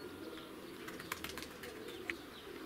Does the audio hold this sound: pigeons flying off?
yes